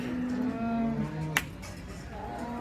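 Cows lowing at the Baramati cattle market, a few drawn-out moos following one another at close range, with a single sharp click partway through and a steady crowd murmur underneath.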